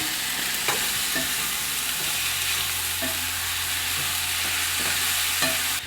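Steady, loud sizzling of fresh tender sorghum grains frying in a pan, with a spoon scraping and stirring at irregular intervals throughout.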